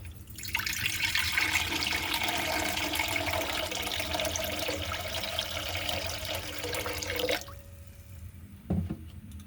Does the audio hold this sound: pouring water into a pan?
yes